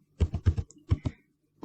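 Several quick keystrokes tapped on a computer keyboard while typing a web address, in a short burst of about eight clicks followed by quiet.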